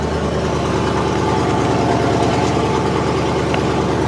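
A 1969 Buick Skylark engine idling after a cold start, a steady loud rumbling idle with an even, rapid low pulse and no voices over it.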